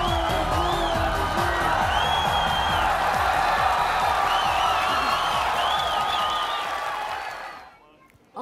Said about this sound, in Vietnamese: xin quý vị dành một tràng pháo tay thiệt lớn để chào đón nữ nghệ sĩ